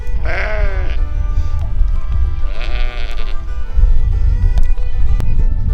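Katahdin sheep bleat loudly twice, a wavering call early and another midway, over steady low farmyard rumble and shuffling.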